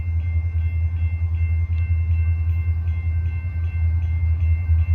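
A KCS EMD SD70M diesel locomotive passes in Muncie, giving a loud, steady low rumble with a faint tonal whine above it that holds for the whole stretch.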